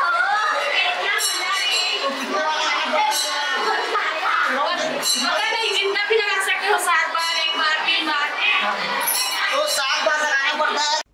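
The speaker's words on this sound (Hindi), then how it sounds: "श्रद्धालुओं की भीड़ बहुत ज़्यादा है" A dense crowd of devotees at the Dabhra Mela temple fair, with steady chatter, shouting and children's voices close by throughout.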